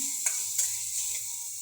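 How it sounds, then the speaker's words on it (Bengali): Onion and garlic frying together in a pan, a close hissing sizzle broken by a few scraping stirs, no voices over it. "পেঁয়াজ রসুন একসাথে ভেজে নিচ্ছি।"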